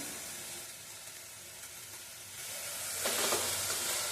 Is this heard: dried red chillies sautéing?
yes